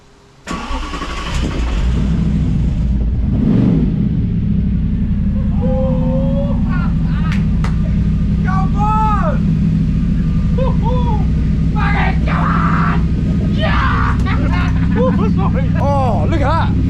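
A fire-damaged Audi R8 cranks and catches, its engine settling into a steady, loud running drone close by, while people talk and a few bird chirps sit over the rumble.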